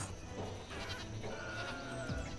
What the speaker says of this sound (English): this is our second field of goats there.